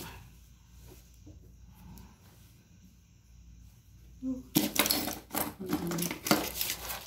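Sewing machine stitching a polo collar on a blouse, starting after a few quiet seconds and running loud and close in a fast continuous whir with small variations in speed.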